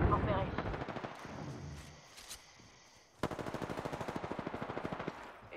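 Rapid automatic gunfire in a shooter video game, aimed at the player: a fading burst at first, a short lull, then a loud run of evenly spaced shots, mixed with game sounds.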